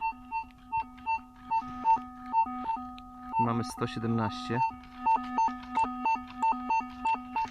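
Metal detector signal tone while digging for tsarist copper coins in a field: a regular series of short, clear electronic beeps that continue steadily throughout, interrupted once by a brief burst of speech.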